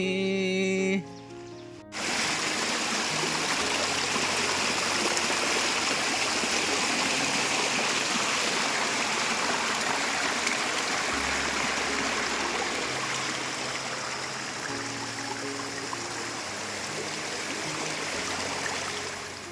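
A rain-swollen stream in the Konkan monsoon rushes past close by in a loud, steady broadband flow, with faint voices now and then.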